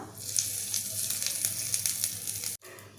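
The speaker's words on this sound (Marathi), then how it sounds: "तडक्या पॅनमध्ये तेल गरम करून त्यामध्ये कढीपत्ता घातला आहे आता मोहरी घालूया मोहरी छान फुलले आता आपण ती चटणीमध्ये ओतून घेऊया" Hot oil tempering with mustard seeds and curry leaves poured into raw mango chutney gives a steady, close sizzling hiss that runs for the whole stretch, with one brief cut shortly before the end.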